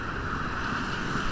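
Surf rolls in at Mustang Beach in Port Aransas, Texas, a steady broad rush of waves mixed with wind buffeting the microphone, continuous and close with no talking.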